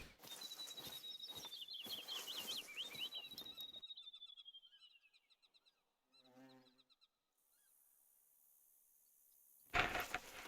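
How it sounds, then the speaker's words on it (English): A small bird in the hunting video game The Hunter: Call of the Wild chirps in quick, rapid trilling bursts amid outdoor ambience, then goes quiet before some faint clicks and a sudden rustle. "That little Tweety bird."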